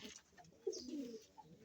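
A pigeon kept by a racing-pigeon fancier gives a low, soft coo, a single faint call heard close by against quiet background noise.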